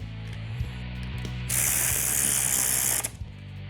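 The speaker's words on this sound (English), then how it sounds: "I have to use the bolts to suck the fuel pump down into place." A hand ratchet clicks rapidly as bolts are tightened to draw a fuel pump down into place on an engine. A brief hiss sounds in the middle, and the clicking trails off at the end.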